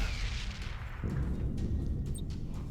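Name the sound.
spaceship cannon firing in video game Battlefleet Gothic Armada 2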